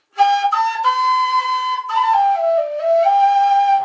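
A Chieftain V5 low D whistle played in its upper register, with a sustained bright note that slides down and then settles, clear and close with no accompaniment or voices.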